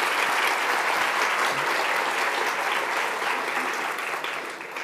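Audience applause at the awards ceremony of the 30th International Fantastic Film Festival: dense, steady clapping from a large crowd filling the whole stretch, easing off slightly toward the end.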